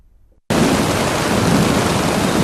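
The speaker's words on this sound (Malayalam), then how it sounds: "ഇടിയോടെയായിരുന്നു തുടക്കം. തുള്ളി തുള്ളിയായി തുടങ്ങി 10 മിനിറ്റോളം കനത്ത മഴ." Heavy summer rain pouring down in Thrissur after thunder, a sudden loud, dense, continuous roar of rainfall following a brief quiet moment.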